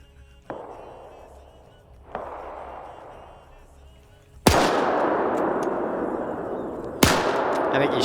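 Gunfire in a military shooter video game: four separate sharp shots, spaced a couple of seconds apart, each with a long rumbling echo that lingers, the last two much louder and closer.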